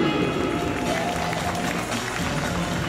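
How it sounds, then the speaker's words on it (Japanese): A crowd at Jingu Stadium claps and cheers during a 2020 mascot talk show with Tsubakuro and Doala, a continuous broad roar of applause from a large outdoor audience. "拍手。"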